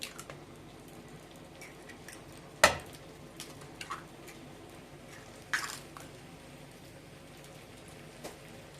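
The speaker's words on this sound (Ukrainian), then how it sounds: "Сюди у миску, де в нас була картопля, вбиваємо два курячих яйця" Two chicken eggs cracked into a bowl that held potatoes: two sharp, isolated cracks a few seconds apart, followed by faint wet sounds in an otherwise quiet room.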